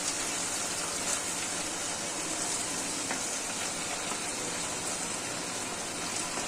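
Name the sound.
potatoes and pointed gourd added to sizzling spiced pan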